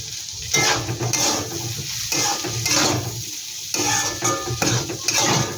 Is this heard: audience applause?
no